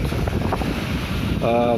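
Steady wind buffeting the microphone on a Sea of Azov beach, a constant rushing roar with faint background activity and a brief tonal sound near the end.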